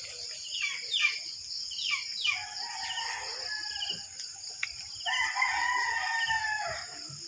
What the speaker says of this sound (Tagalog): Doon may manukan doon banda